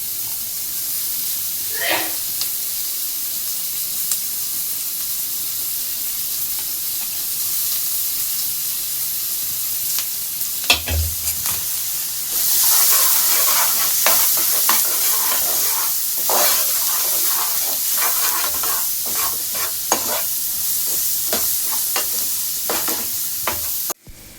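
Onions and chilies sauté in a pan with a soft sizzle and occasional spoon scrapes; a louder, hissier sizzle swells midway and continues to the end, close and unbroken by talk.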